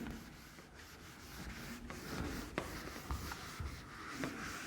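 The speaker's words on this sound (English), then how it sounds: "after that I will write here again" Chalk or marker scratching across a board during a biology lecture, soft rubbing strokes with a few sharper taps, steady and close with no talk over it.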